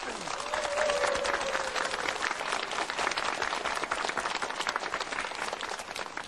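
An audience at a lecture breaks into dense, sustained applause to welcome the speaker, with many hands clapping steadily at an even, fairly loud level for several seconds.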